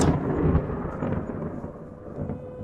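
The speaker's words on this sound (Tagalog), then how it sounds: "muling dumagundong ng kidlat" A deep rumble of thunder rolls on after an initial crack, loud and sustained, fading slightly with faint rain-like hiss beneath.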